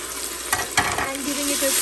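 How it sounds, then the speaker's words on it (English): Ginger garlic paste and onions sizzle steadily in hot oil in a pan for yakhni pulao. A spoon scrapes and stirs through them with a couple of soft knocks, close by. "giving it a quick stir. And I will saute it for 30 seconds or a minute"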